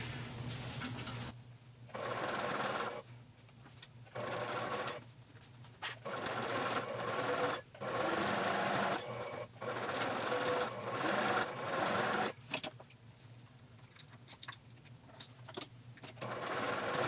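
A sewing machine stitches bag seams, running across pressed-open side-panel seams in short bursts of rapid whirring separated by brief silences, with no talking.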